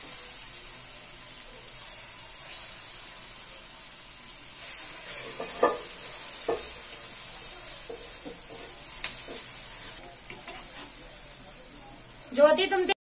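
Moong dal mangode fry in hot oil with a soft, steady sizzle, punctuated by occasional spoon clinks and stirring, ending in a louder splash of bubbling, faint and close.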